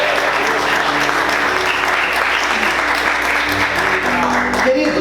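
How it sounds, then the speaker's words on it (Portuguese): A church congregation applauds in sustained, dense clapping that holds steady for the whole stretch, with faint voices and tones underneath. "Você pode aplaudir Jesus com bastante alegria?"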